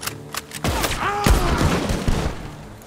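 Gunfire in the Red Dead Redemption 2 video game, a few sharp shots leading into a loud, heavy burst of shooting with booming impacts, close and dense, with a brief voice and some tonal game sounds mixed in.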